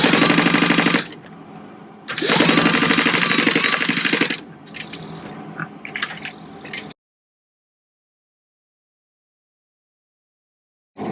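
A sewing machine stitching a fabric wallet panel a quarter inch from the top, loud rapid mechanical whirring in bursts with short pauses, close up, then silence.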